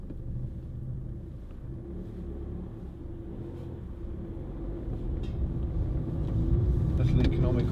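A Ford Fiesta 1.4 TDCI diesel panel van on a drive gives a low, steady engine and road rumble heard from inside, growing slightly louder toward the end.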